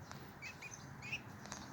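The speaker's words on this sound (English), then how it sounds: "Quick, quick, tweet, tweet, tweet." A baby robin gives a few faint, high, thin chirps in short bursts against a quiet, steady background hum.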